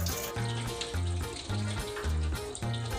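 Soaked rice for jeera rice is swished and rinsed in water, a steady wet sloshing in regular pulsing strokes, close and alone.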